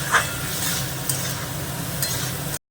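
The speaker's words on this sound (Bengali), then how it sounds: "এখন দিয়ে আবার নেড়ে দেবো" Khichuri stirred in a pan after turmeric is added, a close continuous sizzle with a few soft scrapes of the spoon. It cuts off abruptly at the end.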